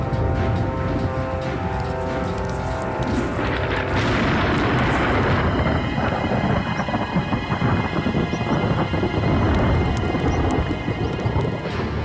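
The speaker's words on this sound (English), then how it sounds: "A dry electric storm above the timberline is deadly." Heavy thunder from an electric storm above the mountain timberline rumbles and crashes continuously, loud and rolling, with rain noise underneath and no voices.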